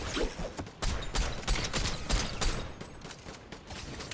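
Gunfire in Fortnite: rapid bursts of sharp shots in quick succession, a dense run of cracks at moderate level with mechanical clicks between volleys.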